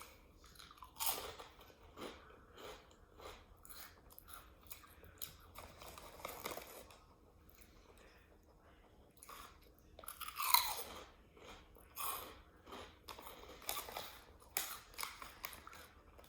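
Crunchy goldfish-shaped Korean seafood snack crackers being bitten and chewed close up, a series of crisp, irregular crunches and munching sounds spread over a quiet background without talk.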